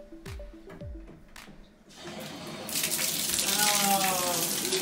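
Water from a Kohler bathtub faucet at The American Club hotel is turned on and gushes steadily into the tub, loud and continuous, after a few brief knocks and a voice at the start.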